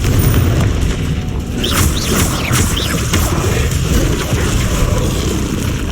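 A Confringo spell explodes in the Hogwarts Legacy video game, producing heavy booming blasts and crackling bursts with bright whooshing streaks, loud and dense across the whole stretch.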